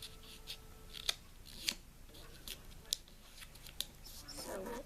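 Paper being folded for an origami ninja star, faint crinkles and sharp creasing snaps at irregular intervals, close and quiet, ending in a louder rustle.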